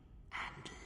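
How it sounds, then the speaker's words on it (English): Meditating blind woman breathing in the dark in Star Wars Knights of the Old Republic II, a single soft, close breath drawn in and released, faint and airy with no talk over it. "The breathing of the blinded one as she meditates in the dark."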